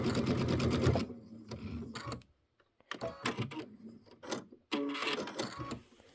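A sewing machine stitches a quilt block seam in several short, choppy bursts separated by pauses, close and fairly quiet.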